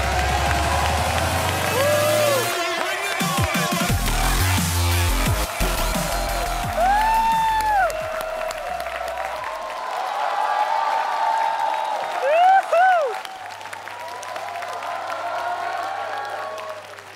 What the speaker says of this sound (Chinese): 掌声有请王祖蓝